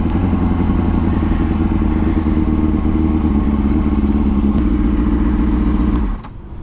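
A 2004 Honda CBR600RR with a Jardine slip-on exhaust idles loud and close, a steady burbling drone that holds for about six seconds and then cuts off abruptly.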